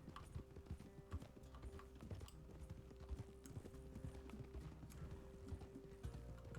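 A horse's hooves clip-clop at a steady trot in the Red Dead Redemption 2 video game, the rhythmic beats quiet and even throughout, with no talk.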